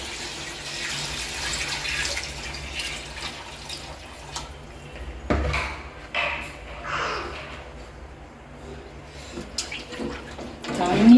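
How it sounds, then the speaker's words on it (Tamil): Water poured into a cooking pot for chicken biryani, a steady splashing run that swells and dips, heard close with background noise and some speech. "இப்போ நாங்கள் தண்ணி விட போகிறோம்"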